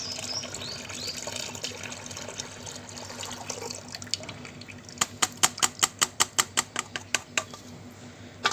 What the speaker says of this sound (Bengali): পুরোটা কিন্তু আমরা সুন্দর করে এর মধ্যে কিন্তু আমরা ছেঁকে নেব।